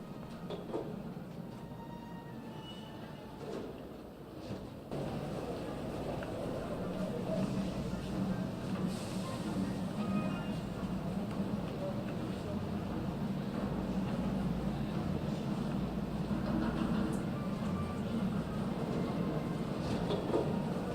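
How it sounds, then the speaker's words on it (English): Steady rumbling train interior ambience in The Raven Remastered video game, a continuous low drone that swells after a brief dip, with faint clunks and rattles throughout and no talking. "Looks like I'll be going to Venice by train"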